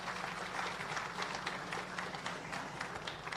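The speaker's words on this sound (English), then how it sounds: "Give her a round of applause for me, please." An audience at a civil service long service awards ceremony applauds, a faint, dense patter of many hands clapping steadily and evenly throughout.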